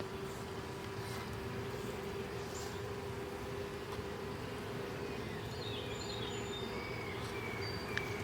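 Honeybees hum steadily during an open hive inspection, a constant low drone filling the background with a few faint bird chirps higher up.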